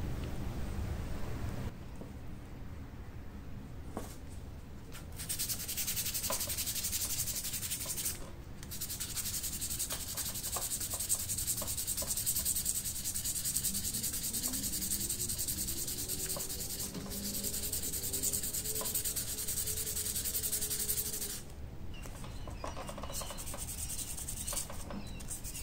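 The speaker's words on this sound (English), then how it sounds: "Alright, so I've sanded back the buffalo horn." Steady abrasive rubbing of sandpaper on a buffalo horn knife handle, a continuous hissy scrub at moderate level with brief pauses, recorded close and without talk.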